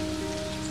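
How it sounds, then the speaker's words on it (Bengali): Heavy rain falls outside at night, a steady, dense, loud hiss with no pauses and no voices. "বাইরে যে বেজায় বৃষ্টি"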